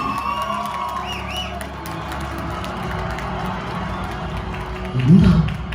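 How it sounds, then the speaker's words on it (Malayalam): Clamour of a crowd of people approaching, a rising mass of voices and shouts with a louder swell near the end, mixed with nearby talk. "എന്താ ഒരു ആരവം കേൾക്കുന്നത്?"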